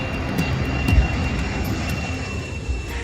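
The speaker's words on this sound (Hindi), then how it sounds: "फिर विमान 8000 किलोमीटर से भी ज्यादा लंबी उड़ान भरते हुए भारत के लिए निकल पड़ा।" A Boeing 747 jet in flight carrying cheetahs on a long flight from Namibia to India gives a steady, broad engine roar with a faint tonal whine, heard alone throughout.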